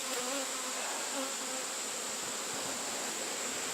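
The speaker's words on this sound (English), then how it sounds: "there are so many bees on there" Dense, steady buzzing of a mass of honey bees crowding a brood frame pulled from a swarm trap, heard close up and continuous with no talking.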